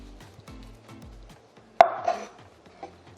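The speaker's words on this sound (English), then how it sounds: "I think these parts are ugly, so I'm gonna cut them off" A single sharp knife chop through the end of a peeled banana on a cutting board, a crisp close click followed by a brief softer scrape, set against faint quiet background sounds in a kitchen.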